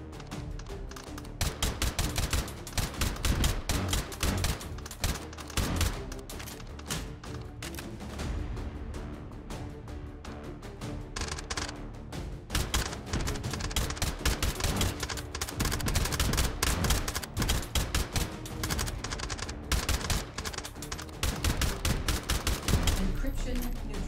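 Sustained heavy gunfire in the VR shooter Hot Dogs, Horseshoes & Hand Grenades on a Monolith custom map, dense rapid shots and bursts continuing loudly throughout with little pause.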